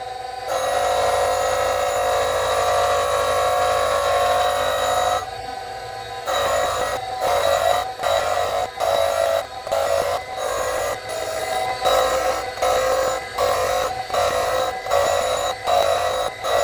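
Sanford surface grinder taking a roughing pass, a steady bright grinding whine with a high ringing tone for about five seconds, then rhythmic repeated bursts as the wheel crosses the workpiece on each stroke, loud and close.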